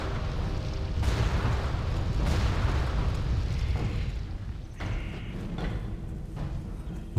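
Bombs explode in World of Warcraft in a run of heavy booming blasts, several rumbling detonations in close succession over a continuous low roar.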